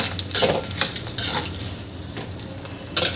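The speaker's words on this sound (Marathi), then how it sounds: "हे सुद्धा मी छान भाजून घेते। इथे लसूण आणि मिरच्या छान झालेल्या आहे।" Garlic and chillies roast in a pan with a little oil, a steady close sizzle broken by several sharp scraping stirs of a spatula against the metal, with no voices.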